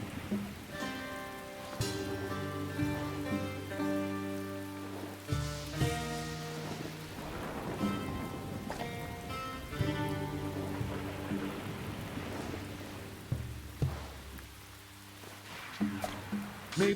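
Rain falls on a forest in Echoes of Mystralia, a soft, steady patter underneath a sustained, prominent melodic music score.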